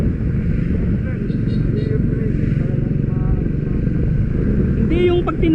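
Triumph Speed 400 motorcycle with a dual overhead cam, four-valve engine running hard at full throttle, a steady loud roar heard from a pillion seat throughout, with wind rush and a few faint voices over it.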